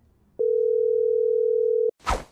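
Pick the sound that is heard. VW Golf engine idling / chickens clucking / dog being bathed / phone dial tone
phone dial tone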